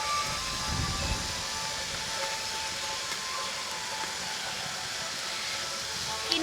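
Sugar syrup bubbling at a steady boil in a pan for rasmalai, a continuous soft hiss and bubbling close by with no talk.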